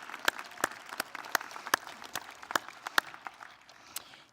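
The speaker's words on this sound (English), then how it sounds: "One more round of applause." Applause from a crowd, a steady patter of many hands clapping with sharper individual claps standing out, fairly close and continuous.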